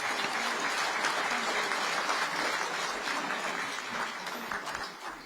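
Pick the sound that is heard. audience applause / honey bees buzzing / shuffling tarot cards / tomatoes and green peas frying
audience applause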